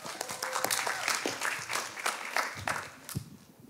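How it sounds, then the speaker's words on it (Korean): Audience applause welcomes a contestant at the Toronto Korean speech contest, a sustained burst of many hands clapping that swells and then tapers off. "큰 박수로 맞이해 주세요"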